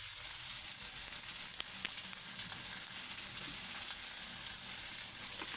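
Potato, green chilli and garlic frying with garam masala and coriander powder in a pan, a dense, even sizzle held close and continuous, with no voices.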